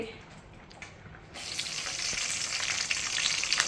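Tempering spices hit hot oil, and after a quieter start a sudden bright sizzle flares up and keeps crackling steadily to the end.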